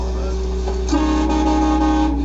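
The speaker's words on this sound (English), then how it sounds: "When I got mine, it came with a train horn." A train horn fitted to a Scion car blares in a loud, sustained multi-tone blast that starts about a second in and holds to the end, while people talk over it.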